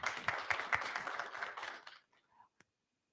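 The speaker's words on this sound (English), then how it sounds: "Round of applause for Gautam." Applause from a tech meet-up audience for a named attendee: a burst of scattered hand claps lasting under two seconds, then tapering off into a few faint isolated claps and silence.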